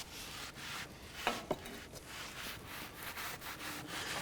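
A cloth rubs across the face of a front brake rotor on a 2010-2017 Chevy Equinox, a close, soft repetitive scuffing in quick back-and-forth strokes with a couple of small knocks.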